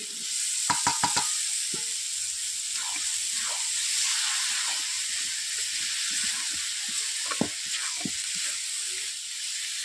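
Freshwater snails (googli) sautéing with bay leaves, potatoes and onion for a Bengali curry, a steady bright sizzle and hiss in the pan with occasional stirring scrapes and clinks.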